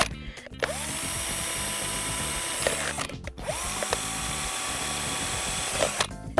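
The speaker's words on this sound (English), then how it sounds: "make sure we've got a few holes in here, so we're going to drill" Power drill boring holes for a kids' grass seed head craft, two long sustained whining runs, each rising then holding steady, separated by brief pauses, loud and close.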